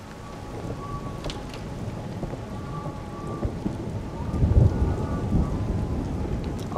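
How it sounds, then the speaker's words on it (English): Heavy rain pours steadily in Everybody's Gone To The Rapture, a dense hiss of drops on surfaces that swells louder toward the end, with low thunder rumbling underneath and no one speaking. "Oh, it's really raining now."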